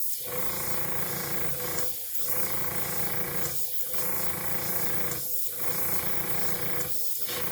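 An air compressor set to 40 PSI blows a steady, loud hiss of air across alcohol ink, broken by short pauses about every one and a half to two seconds, close to the listener.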